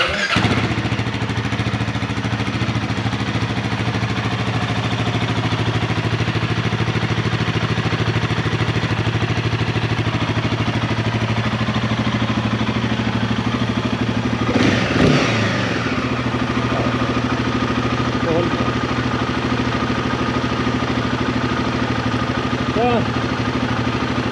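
Royal Enfield Himalayan 452 motorcycle idling steadily with a low, even engine thrum, then one brief sharp rev blip near the end before settling back to idle, with a person talking nearby.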